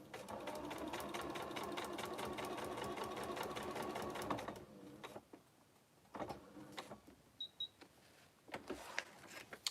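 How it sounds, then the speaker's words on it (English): A sewing machine stitches quilt fabric at a short stitch length, running steadily and close for about four and a half seconds, then stopping, followed by scattered handling clicks and rustles. "So all I've done now is I've stitched along that line,"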